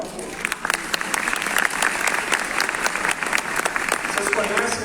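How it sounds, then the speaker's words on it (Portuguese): An audience applauds a volunteer at a Portuguese-language talk on neurotechnology and neuromodulation, the steady clapping of a sizeable crowd filling the room, with voices speaking over it. "Palmas para o voluntário, por favor."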